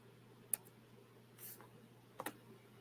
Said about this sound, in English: I'm typing it as we speak